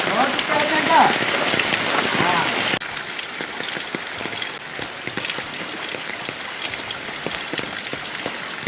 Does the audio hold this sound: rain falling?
yes